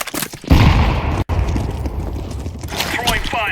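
A loud, close grenade blast erupts in Counter-Strike: Global Offensive, a heavy boom followed by rumbling debris and gunfire-like crackle, with a voice talking over it.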